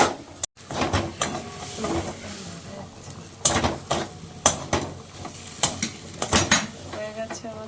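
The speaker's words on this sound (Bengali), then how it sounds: "এবারে শুধু অনেকক্ষণ ধরে নাড়তে হবে।" Thick mashed taro (maan kochu) paste stirred in a pot, with a spoon repeatedly scraping and knocking against the metal in irregular clanks, a soft sizzle beneath, close and clear.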